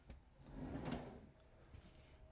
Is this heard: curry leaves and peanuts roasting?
no